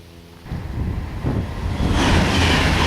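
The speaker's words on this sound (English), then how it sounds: "Listen to that, a train passing overhead" A Pendolino train passing overhead on the West Coast Main Line, a rushing roar that swells in within half a second and keeps building to a loud broad wash, with no talking.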